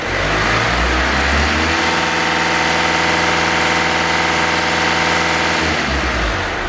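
A Skoda Octavia vRS with a boost fault idles close by, a steady, even engine drone with a smooth low hum that holds at a constant pitch and fades slightly near the end.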